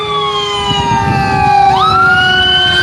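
A loud, close ambulance siren wails with steady held tones that bend sharply in pitch as it passes along the street, over a rumble of traffic.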